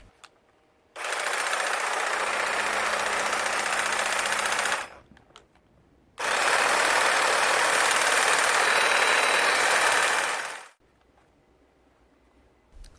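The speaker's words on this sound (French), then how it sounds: "Comparons sur le taille-haie la vitesse de rotation moteur entre l'utilisation sur batterie et sur secteur." A Ryobi hedge trimmer motor runs in two bursts of a few seconds each, a loud, steady high-pitched buzzing whine, close by, with a brief pause between and quiet before and after.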